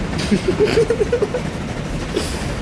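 Small in-game train from Transport Fever 2 rolling along, a short run of rhythmic clicking over a low rumbling drone, moderately close with no talk.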